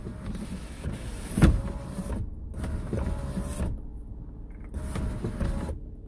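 The sunroof motor of a 2005 Cadillac CTS hums through several short runs as the roof slides and closes, a steady whine starting and stopping in bursts, with a click near the start.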